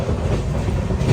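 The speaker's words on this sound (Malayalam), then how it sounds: "ട്രെയിൻ ഇപ്പം 100 km/h സ്പീഡിലാണ് പോയിക്കൊണ്ടിരിക്കുന്നത്." Inside a sleeper-class carriage of the Donyi Polo Express running at about 100 km/h, a loud, steady rumble of wheels on rails fills the space with a faint rhythmic clatter and no voices.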